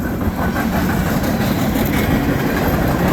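CN freight train X403 passing north of Conrath, led by Union Pacific and CN diesel locomotives including C44ACM and AC44CW units, heard as a loud, close, steady roar with rhythmic clickety-clack of wheels over rail joints.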